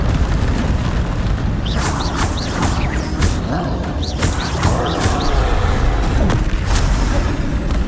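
Confringo fire-blast spells bursting in a Hogwarts Legacy battle: a loud, continuous roar of booming explosions and crackling impacts, with overlapping bangs and magical whooshes filling the whole stretch.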